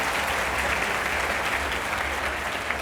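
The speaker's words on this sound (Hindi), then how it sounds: "जोरदार तालियों के साथ स्वागत किया जाए" An audience at a televised debate breaks into continuous, dense applause welcoming a guest on stage, a steady wash of many hands clapping at close range.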